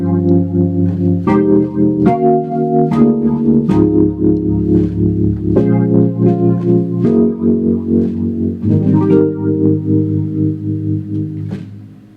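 A Nord Stage 2 set to piano with a phaser effect plays a sequence of sustained chords, each swirling and sweeping as the phase moves, loud and clear with no talk over it.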